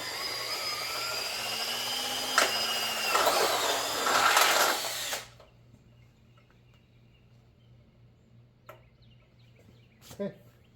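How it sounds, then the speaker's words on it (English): Power drill with a titanium bit boring through painted truck metal: a rising whine with grinding bite for about five seconds, then it stops, leaving quiet handling clicks and a couple of knocks. "I am using a titanium drill bit"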